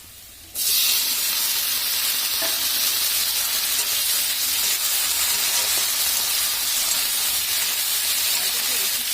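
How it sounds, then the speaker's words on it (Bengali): Tomato goes into a pan of frying onion and the sizzle bursts up suddenly after a quiet start, then stays loud, hissing and continuous at close range with faint stirring underneath. "এর মধ্যে আমি দিয়ে দিচ্ছি এবার টমেটোটা।"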